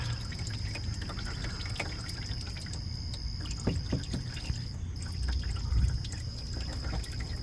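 Coolant dripping out of a hole, a few soft drips landing in the middle of the clip over a steady low background hum, with no talking.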